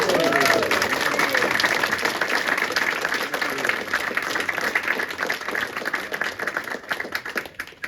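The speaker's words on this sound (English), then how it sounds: "how about a round of applause for Eric Watson" An audience at a tour guides' association membership meeting gives a round of applause, many hands clapping steadily and fairly loudly for around eight seconds, thinning into scattered claps at the close.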